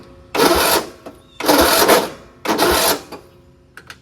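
An old lawn tractor engine is cranked by its starter motor in three loud, close bursts of about half a second each, separated by short pauses, with faint clicks at the end.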